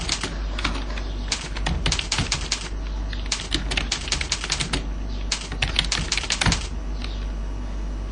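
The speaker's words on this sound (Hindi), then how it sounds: "हमने जो अपनी फाइल बनाई है कुछ और टाइप कर देते हैं इसमें" Fast typing on a computer keyboard while entering text into a file, a dense, continuous run of crisp key clicks in uneven bursts, close and clear with no talking.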